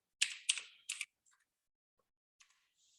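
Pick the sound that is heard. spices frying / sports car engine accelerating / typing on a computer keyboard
typing on a computer keyboard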